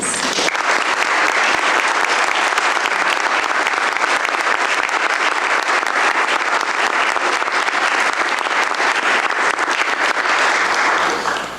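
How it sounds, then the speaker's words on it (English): A county board meeting room breaks into sustained applause for an honoree, a dense, loud wash of clapping that holds evenly for about eleven seconds before cutting off. "I'd like to ask for a round of applause"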